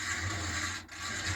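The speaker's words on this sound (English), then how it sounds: "That's the sound of brushes bedding in" Motor brushes bedding in on a Hotpoint WM76P washing machine, a steady faint scraping rub with a soft low hum, continuous over a short stretch with a brief dip near the end.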